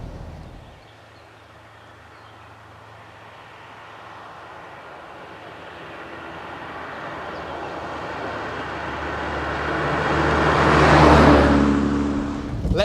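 A 1960s Fiat 124 Berlina family saloon with a 60-horsepower 1.2-litre four-cylinder engine driving along, its note swelling steadily in pitch and loudness toward a peak near the end, with no talk.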